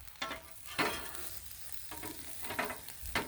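A grilled chili cheese sandwich on a griddle gives a close sizzle and fry, broken by a few scraping spatula stirs and soft shifting sounds as it is flipped.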